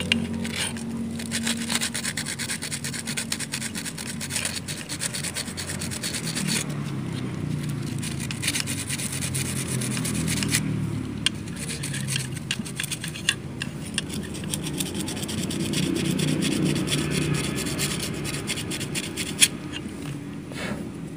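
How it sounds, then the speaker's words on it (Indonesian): A sewing machine part being sanded by hand with sandpaper to smooth a sharp edge, giving steady close-up scraping and rubbing strokes that continue for about twenty seconds with no talk. "setelah itu kita juga butuh mengamplas di ini teman-teman"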